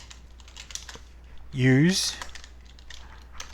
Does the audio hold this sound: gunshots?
no